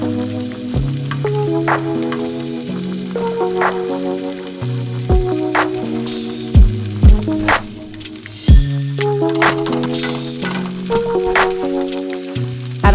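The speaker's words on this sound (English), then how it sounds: "Add the beans and use a potato masher to mash 3/4 of the beans." Cooked beans are mashed with a potato masher in a sizzling pan, with soft frying hiss and occasional pressing thuds beneath steady background music.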